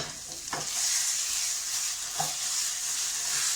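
Oily salsa roja sizzles loudly in a frying pan as it is stirred, a steady bright hiss with a couple of soft scraping strokes of the spoon, close and continuous with no talking.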